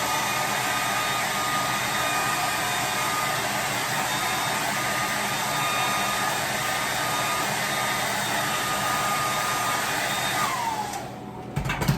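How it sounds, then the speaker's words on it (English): A blow dryer runs continuously with a steady, loud whirring hiss, then cuts off abruptly near the end. "Now you're going to take your blow dryer"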